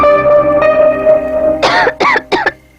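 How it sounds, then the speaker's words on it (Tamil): Sustained musical tones play, then three harsh, close coughs break out in quick succession. "பாத்தியா இருமுது"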